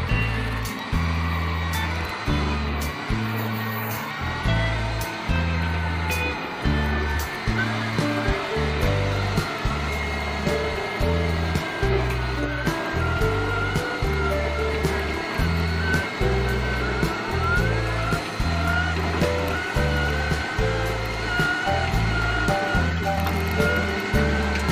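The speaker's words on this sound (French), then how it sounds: "Je pense que c'est le véhicule électrique le plus bruyant que j'ai jamais utilisé." A cheap Chinese electric tractor loader runs loudly, its drive producing a steady, noisy whine and hum with rhythmic low pulses repeating throughout, close and continuous with no talk.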